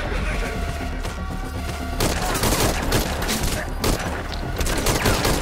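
Dense bursts of gunfire from Metal Gear Online 3 crackle and thump throughout, growing heavier halfway through, loud and continuous with no voice over them.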